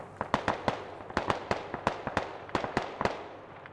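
Mortar shells exploding in the military video game Squad, a rapid series of sharp, distant-sounding blasts popping irregularly like a string of firecrackers, with no talk.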